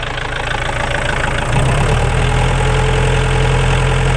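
A Kubota diesel tractor engine idles close by with a steady, low, throbbing rumble that settles into an even, slightly louder drone partway through.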